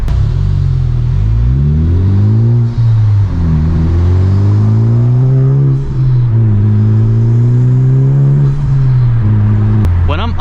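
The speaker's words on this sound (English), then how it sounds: "When I'm upshifting this car with the whole exhaust system, it pops, and it's like a gurgly, aggressive pop in between shifts" A 2021 Honda Civic Type R with a full exhaust system revs up through several upshifts, its loud, close engine drone rising and dropping in pitch, with pops between shifts.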